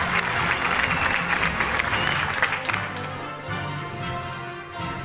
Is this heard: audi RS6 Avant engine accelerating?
no